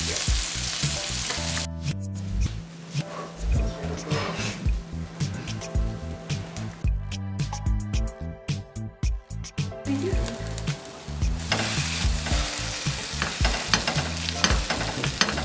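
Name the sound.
tuna steak stack sizzling while cooking in a pan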